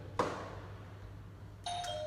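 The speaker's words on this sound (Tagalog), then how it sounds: "Ang lakas kasi ng doorbell nila." A loud doorbell chime rings once near the start, then a second electronic ding-dong tone sounds near the end, with quiet room hum in between.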